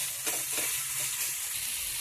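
Coriander leaves with their roots and other ingredients sauté for a Bengali fish curry. A steady, close sizzle with soft stirring scrapes runs throughout and no voices are heard.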